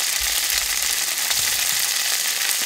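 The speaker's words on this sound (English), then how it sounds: "nice sizzle." Tofu sizzles loudly in hot oil, a close, crackling hiss with a few soft clinks underneath.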